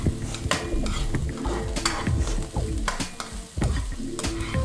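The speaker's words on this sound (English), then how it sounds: "Quickly soften the red onions and they get moved off then." Red onions soften in a hot pan, sizzling steadily while a utensil stirs and scrapes them in repeated close strokes, loud and without talk.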